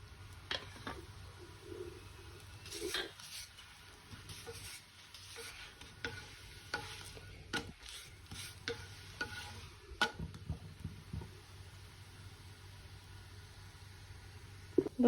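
Soft oily sizzle of a fasting paratha roasting on both sides in a pan, with scattered scraping and tapping sounds from the spatula over a steady quiet hiss.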